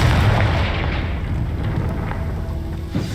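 A Confringo fire spell bursts in Hogwarts Legacy with a low, rumbling boom, followed by a sustained roar and a small second crack near the end, loud and close with no voices.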